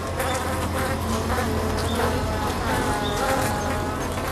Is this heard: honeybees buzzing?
yes